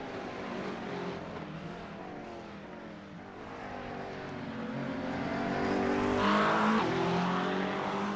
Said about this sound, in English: Sounds like the McLaren got a little bit on throttle right before the Porsche.